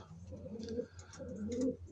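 Young pigeons coo in soft, throaty bursts, two rolling calls close by with a steady low hum underneath.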